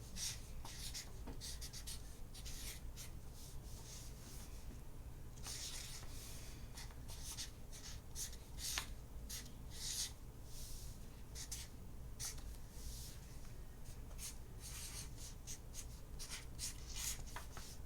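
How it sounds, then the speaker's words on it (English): A marker squeaks and scratches across a board in a long run of quick, uneven strokes, close by and fairly faint, with no one talking. "I'm sorry my marker's so loud."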